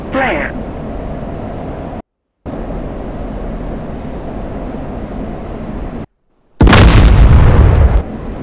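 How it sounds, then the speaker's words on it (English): An F-16 fires off chaff and flares, heard as a sudden loud burst of hissing, crackling noise near the end, over a continuous engine drone broken by brief silent gaps. "Chaff flare."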